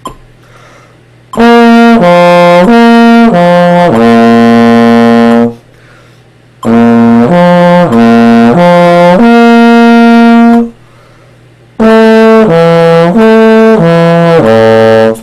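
A trombone plays loud, close lip slur flexibility patterns, three sustained phrases sliding smoothly between harmonic notes, with short pauses between them and no talking.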